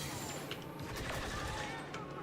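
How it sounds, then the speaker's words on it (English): Weapon secondary fire in the Star Wars Battlefront II video game, a dense, continuous crackling barrage of blaster-like shots layered together at moderate volume, with a voice talking over the combat. "Secondary fire is so overpowered."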